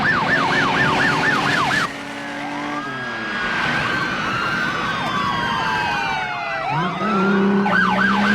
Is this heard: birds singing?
no